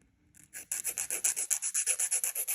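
A nail file rasps across a fingernail during an at-home gel manicure, about a dozen quick, evenly spaced gritty strokes right at the mic after a brief quiet start.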